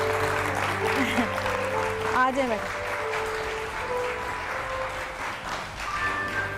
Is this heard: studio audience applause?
yes